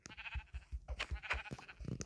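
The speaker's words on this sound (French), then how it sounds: "Oh, un mouton!" Minecraft sheep bleating repeatedly in a short, wavering, nasal run, close and clear with no talk over it.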